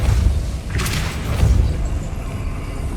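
Depulso force spell cast in the Hogwarts Legacy video game: a dull booming thud with a brief whooshing burst near the start, over a constant low rumbling game ambience.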